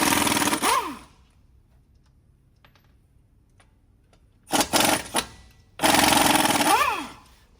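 An impact wrench or ratchet spinning off 18 mm brake caliper bolts on a 2007-2018 Chevy/GMC truck, three loud close mechanical bursts separated by quiet pauses.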